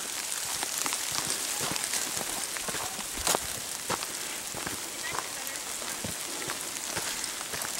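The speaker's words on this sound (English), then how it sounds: "It's raining, but it's not pouring." Light rain patters steadily outdoors on surfaces around a walker, with scattered sharper drop hits in a continuous close hiss.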